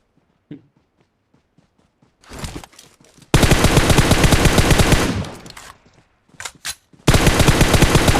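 Shotgun blasts in PUBG Mobile ring out loud and close: a few faint shots and footsteps, then two long stretches of rapid, continuous gunfire separated by scattered single shots.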